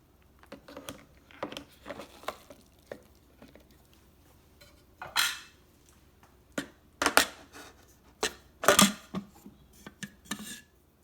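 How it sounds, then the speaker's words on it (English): Dry rice tipped into a Thermomix basket, giving scattered rattling and pattering bursts with sharp clatters, fairly close and moderately loud, no talking. "Now we're going to add the rice that it's already in the basket."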